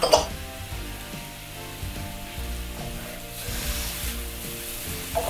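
Mixed vegetables with cooked corn and carrot are stir-fried, giving a moderate sizzle with clanks and scrapes of stirring, including a sharper hit at the start and another near the end, over a steady background hum.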